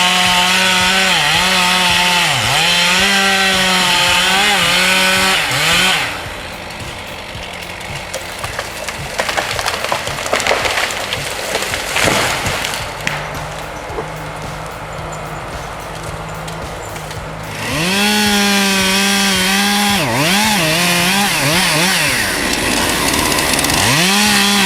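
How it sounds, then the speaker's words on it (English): A loud chainsaw roars close up cutting a log, its pitch rising and dipping as it bites into wood, then drops to a rough idle before revving and cutting again. "Once the chainsaws stop roaring from the felling"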